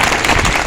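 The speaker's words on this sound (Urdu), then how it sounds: "تالیاں جاؤ میاں صاحب کے لیے بچوں کی" Children clapping for a guest at a government high school uniform and shoe distribution event in Missa Kaswal, a dense, steady burst of applause filling a brief moment.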